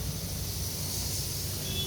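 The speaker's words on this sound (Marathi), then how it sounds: "कुकरचा आवाज येत आहे" A steady, close hiss of escaping steam from a pressure cooker cooking dal and rice holds constant and fairly loud for the whole stretch, with no talking.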